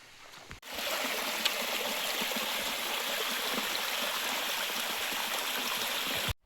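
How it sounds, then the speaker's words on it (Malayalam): Waterfall on the way up Chembra Peak, a steady broadband rush of falling water that starts abruptly after a brief quiet moment and holds constant and fairly loud throughout, with no voices. "ചെമ്പ്ര പീക്കിലേക്ക് പോകുമ്പോഴുള്ള വെള്ളച്ചാട്ടം കേട്ടോ ഇത്."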